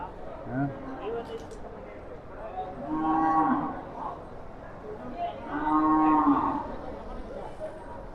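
Cattle at the Siddaganga fair in Tumakuru moo twice in long, low calls a few seconds apart, over a busy crowd murmur with people talking nearby.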